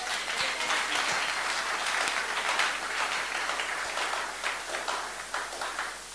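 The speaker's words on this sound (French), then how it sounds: "Est-ce que tu peux recevoir avec une acclamation solide?" Loud, sustained applause from an audience at a ministers' meeting, dense clapping that holds steady for several seconds and stays full throughout, with no speech on top.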